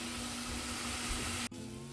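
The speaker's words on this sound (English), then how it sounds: "I actually decided to saute the vegetables on medium-high for 10 minutes" Carrots, celery and onion sauteing in a pot over medium-high heat give a steady, close hiss and sizzle that holds evenly, with a brief dip near the end.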